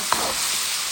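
Small pieces of pork fry in hot oil with seasoning, a loud, close, continuous sizzle with one brief stir at the start.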